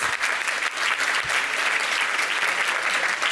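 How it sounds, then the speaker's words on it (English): Gala fundraising audience gives a round of applause, loud, close and continuous dense clapping filling the room with no talk over it. "let's give all the generous donors and David a round of applause"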